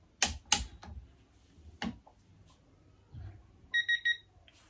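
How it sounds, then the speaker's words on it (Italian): A few sharp mechanical clicks from a Lidl 80-210 Nm torque wrench, then a short series of high electronic beeps near the end, with quiet room noise between. "dovremo sentire il beep prima che la stessa chiave dinamometrica inizi a ruotare"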